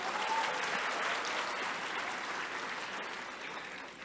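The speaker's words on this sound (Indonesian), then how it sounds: "Tepuk tangan dulu untuk Pak Dino Patijalal." Sustained applause from a conference audience in a main hall during a special session, a dense even wash of clapping that holds steady for about four seconds before easing slightly at the end.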